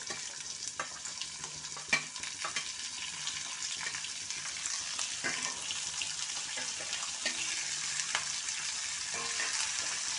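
Karonda berries and green chillies sizzle in hot oil in a pan over a low gas flame, a steady crackling fry broken by occasional stirring clatters.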